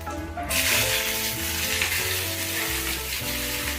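Mustard seeds and chopped small onion frying in hot oil for a fish curry masala, a loud steady sizzle with crackling from start to end, no talk.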